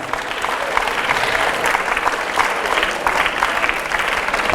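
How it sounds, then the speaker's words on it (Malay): An audience at an Islamic lecture applauds in thanks, loud and sustained clapping from a large crowd that carries on steadily from start to finish. "Ucapan terima kasih, tepuk tangan untuk kamu."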